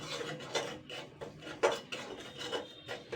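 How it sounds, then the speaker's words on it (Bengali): Dry semolina is stirred in a pan, making rhythmic scraping and rasping strokes of a spoon against the pan bottom, close and moderately quiet, roughly two strokes per second. "প্রথমে সুজিটাকে আমি জাস্ট এক দু মিনিট একটু হালকা নেড়ে চেড়ে নেবো"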